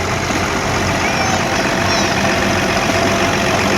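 An Allis-Chalmers D17 Series 4 tractor engine runs in an autumn harvest-days parade, a loud, steady low rumble that holds without a break.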